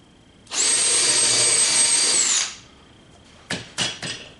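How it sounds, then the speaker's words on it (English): A power hacksaw runs on metal in one sustained, loud, high whine of about two seconds that cuts off sharply, followed by three short bursts of cutting or clattering. "while I use the power hacksaw on it"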